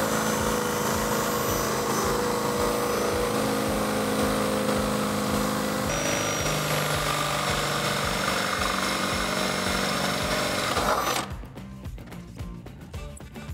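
A power drill with a 1/2 inch bit bores a hole through the front wheel well of a Jeep Wrangler JK during an inner fender install, whining and grinding steadily close up for about eleven seconds before stopping abruptly.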